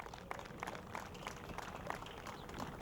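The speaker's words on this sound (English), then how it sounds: "I want a special round of applause for our Mayor, Bill Hendrick." Gathering at a mayor's golf outing applauding for the mayor, a brief spell of soft, scattered clapping heard from a distance.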